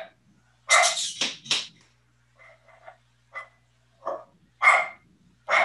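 An excited dog barks in sharp bursts at neighbor dogs, two loud barks near the start and more at the end, with fainter yips and distant barking between them over a quiet outdoor background.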